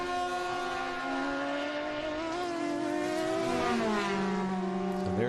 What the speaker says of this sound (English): they really are good sounding race cars